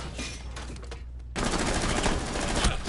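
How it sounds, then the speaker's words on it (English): Sustained automatic gunfire in Rainbow Six Siege, a dense, loud stream of rapid shots that briefly drops out and then resumes at full force. "keep firing your ammo at me"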